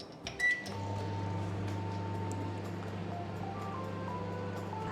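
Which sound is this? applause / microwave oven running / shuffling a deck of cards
microwave oven running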